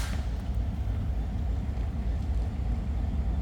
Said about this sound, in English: That's a car making that sound right there